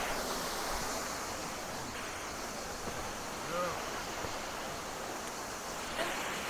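A waterfall roars as a steady, broadband wash of falling water and wind at an outdoor photography spot, constant and fairly loud throughout, with no talking over it.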